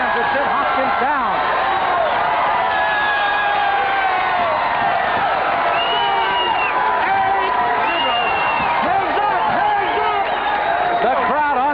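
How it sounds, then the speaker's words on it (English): A boxing arena crowd on its feet roars and cheers continuously after a knockdown, loud and dense throughout, with a commentator talking over the din. "The crowd on their feet."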